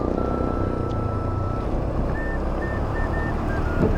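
A truck drives through a flooded road during a typhoon in Lopez, Quezon, giving a loud, steady rumble and wash of water throughout, with faint high beeping tones toward the end.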